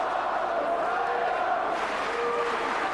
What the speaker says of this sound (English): Chance of Markus Beyer from the crowd